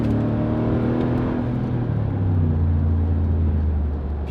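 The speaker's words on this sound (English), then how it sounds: "Listen to that engine, so good. It's V8, man." A 2017 Mercedes-Benz G63 AMG Edition 463's V8 engine revs up deep and loud from inside the cabin, pitch climbing then settling into a heavy rumbling drone.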